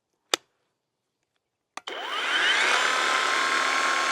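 Two sharp clicks, then a GTM CS18/250BL 18V cordless chainsaw whirs up and holds a steady, high electric hum while idling close by.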